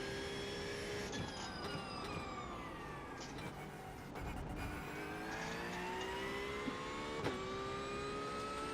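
Race cars in a racing game circle the Road America circuit in a Porsche Club event, with a constant high engine whine and drone filling the whole stretch. Pitch shifts slightly as the engines rev and ease off.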